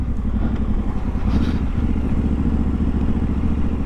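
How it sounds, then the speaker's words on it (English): A Triumph Scrambler 1200 XE motorcycle runs with a steady, loud, low exhaust rumble that holds evenly throughout, with a few clattering knocks over the top. "It's quite loud, that exhaust though."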